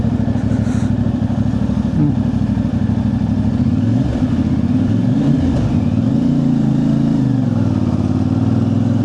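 A CFMoto 450MT motorcycle engine running while riding, a loud, steady mid-pitched drone with gentle rises and falls in revs throughout.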